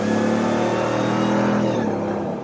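A 2021 RAM TRX truck with a Hellcat engine accelerates hard, a loud, sustained engine roar rising in pitch as it pulls, heard from close by with no talking.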